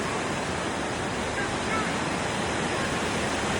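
Steady, dense rush of the Aare River in Switzerland filling the whole clip, loud and continuous without pauses, like a stream pouring over rocks.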